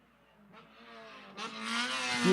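Race car at Lime Rock Park, its engine climbing steadily in pitch and loudness as it approaches on the track and rushes by close at hand.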